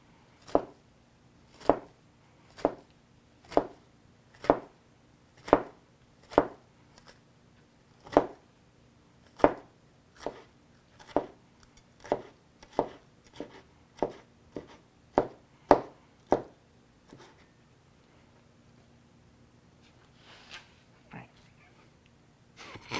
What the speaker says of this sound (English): we're going to go back over them in the other direction, and it's just going to create some small little cubes of squid